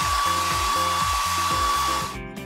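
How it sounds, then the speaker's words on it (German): Hair dryer in a video game, a loud, steady whine and whoosh, with game music playing beneath, cutting off abruptly near the end. "Ich habe einen Föhn."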